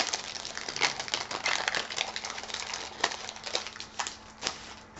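Panini sticker packets torn open carefully by hand, a close run of crisp crinkling and small ticking paper snaps with uneven rhythm and no talking.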